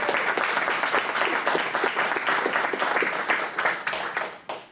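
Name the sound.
audience applause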